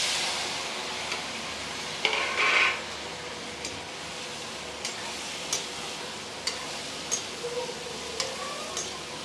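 Potatoes dropped into a pan of roasted cumin, red chilli and turmeric give a brief burst of sizzling, then quiet frying with scattered light ticks and clinks of a utensil, close and fairly soft.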